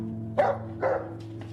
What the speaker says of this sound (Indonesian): yang terus menggonggong seakan ingin keluar mengejar Cholmin